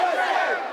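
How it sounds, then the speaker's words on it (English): Crowd outside the White House cheering, a dense, steady roar of many voices held at an even level throughout a brief moment. "Cheering crowds outside the White House see this as a clear and simple victory for the USA."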